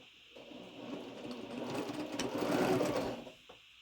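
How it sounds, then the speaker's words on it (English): A sewing machine stitching quilt rows together, a steady mechanical whir that starts abruptly, swells louder toward the middle and stops near the end, close by with no talk. "So I'm just gonna sew them together row by row."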